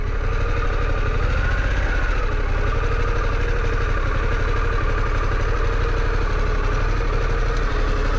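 A 2021 Harley-Davidson Pan America 1250 motorcycle engine idling close by: a loud, even, rapid low rumble with a steady mechanical pulse that holds throughout, with no voices.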